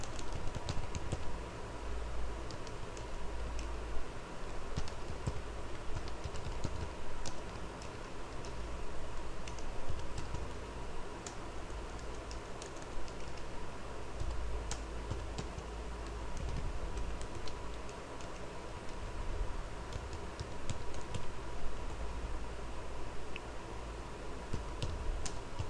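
Steady typing on a computer keyboard while entering Oracle SQL code: rapid, close key clicks continue for the whole stretch over a constant room hum, with no talking.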